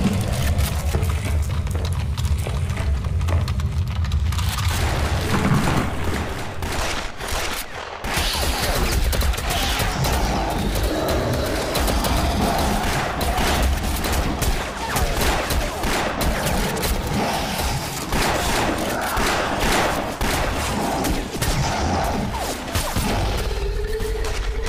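Dense gunfire from an action movie battle scene, with rapid volleys and bursts layered over rumbling booms and a loud, constant mix of noise throughout.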